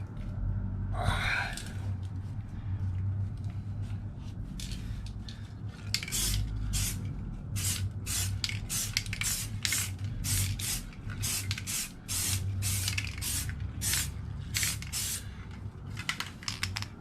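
Aerosol primer sprayed onto motorcycle wheels in a run of short hissing bursts, near and steady, with a low background hum throughout and no talking.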